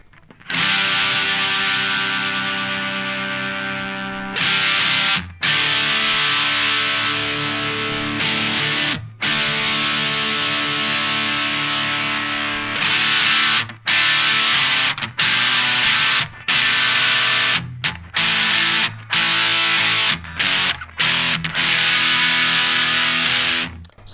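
An electric guitar played through a Boss DS-1 distortion pedal while the tone knob is adjusted, loud and close, with sustained distorted chords and notes broken by short silences between phrases, no talking.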